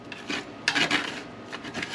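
Roasted cherry tomatoes seasoned with oregano being scraped off a baking tray, a close rasping scrape repeated in a few short strokes, alone with no talk.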